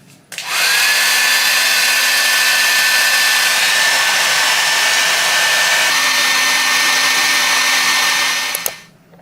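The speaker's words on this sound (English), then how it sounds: "you attach your regular blow dryer" A regular blow dryer fitted with a nozzle drying the hairline of a bleached blonde wig, running as a loud steady whoosh with a high whine for about eight seconds before switching off, with a slight pitch change midway.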